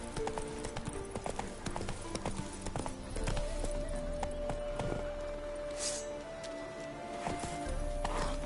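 Steady clip-clop of horse hooves at a walking pace in The Witcher 3, close and continuous, with game-like tones and a brief whinny-like burst partway through.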